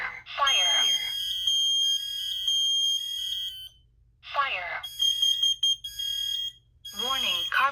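Kidde smoke alarm with a very high-pitched piezo sounding during a board test, shrill sustained beeping in long bursts broken by short pauses, alongside voice announcements from the unit.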